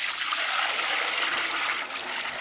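Melted beeswax and water pour back from a bucket in a steady close rushing splash, continuous and fairly loud for a couple of seconds, easing slightly at the end.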